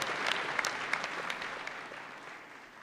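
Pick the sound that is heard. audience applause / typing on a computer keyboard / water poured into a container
audience applause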